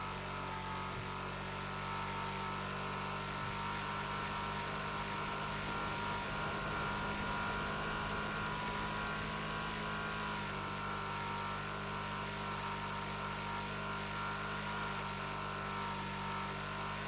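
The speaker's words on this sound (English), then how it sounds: "this truck is super loud." A truck engine at high speed in the GTA Online video game drones continuously with a steady, rough mid-range roar and faint tonal whine, fairly quiet in level and unbroken throughout.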